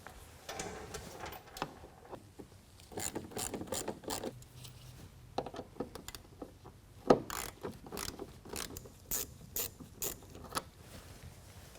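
A 7mm ratchet clicks in rapid, repeated bursts as it backs out wheel arch bolts on a 2021 Ford F-150 during a fender flare install, heard close with short pauses between runs.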